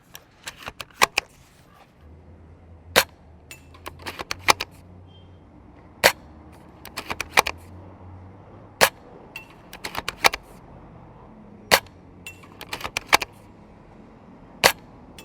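A CYMA VSR-10 airsoft sniper rifle fires repeatedly, sharp isolated cracks and clicks spaced irregularly over a quiet background, with a faint low hum in between.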